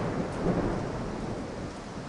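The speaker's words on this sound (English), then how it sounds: "nice rain there" A thunderstorm with steady rain, dense broadband hiss and low rumbling rolling throughout at a fairly loud level, with no voices.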